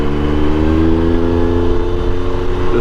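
A loaded adventure motorcycle carrying camping gear, ridden on Lake District roads, drones steadily up close with a continuous mid-pitched engine note and slight rising revs, no voices over it.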